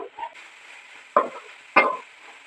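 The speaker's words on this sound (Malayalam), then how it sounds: "നമ്മുടെ ചെമ്മീൻ ഇട്ട് കൊടുത്തിട്ടുണ്ട്. ഇതൊന്ന് ഇളക്കി കൂട്ടി." Prawns are stirred into biryani masala in a pan, with two distinct scraping strokes of a spoon over a low background sizzle and no voices.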